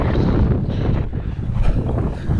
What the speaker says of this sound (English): It is really, really windy out here